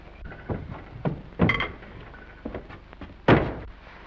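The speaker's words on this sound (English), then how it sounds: "Will you close this door," A door is shut with a few dull thumps and knocks, the heaviest thud near the end, close by over low room noise.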